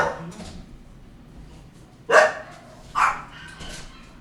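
Dogs barking indoors at home, two sharp loud barks about a second apart, with a fainter yelp near the start and softer noises between them.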